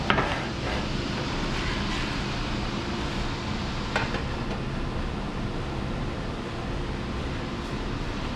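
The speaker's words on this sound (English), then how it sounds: "Now I have a griddle pan on. I'm going to go ahead and sear this" Bulgogi meat sears on a hot griddle pan with a steady, close sizzle, joined by a few clinks and scrapes of a utensil against the pan.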